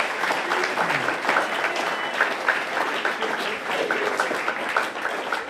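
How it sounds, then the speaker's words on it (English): Applause from an audience at a book launch, steady and fairly loud for several seconds, a dense wash of many hands clapping at once. "She deserves a round of applause there."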